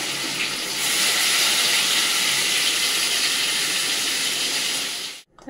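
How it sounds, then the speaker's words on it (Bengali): Sea fish drop into hot oil and fry with a loud, steady, broad hiss that holds for several seconds, then cuts off abruptly near the end. "তেল গরম হয়ে গেছে, মাছগুলো এখন ভেজে নেবে এক এক করে"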